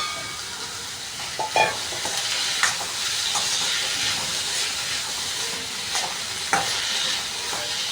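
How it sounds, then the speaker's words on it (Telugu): Okra and potato pieces sizzle and hiss steadily in a hot pan for a crispy pepper fry, with occasional sharp scrapes and clinks of a spatula stirring through them; no voices. "ఇప్పుడు ఆల్మోస్ట్ ముందుగానే కట్ చేసి పెట్టుకున్న ఆలు ముక్కలు కూడా వేస్తున్నాను అనమాట ఇక్కడ"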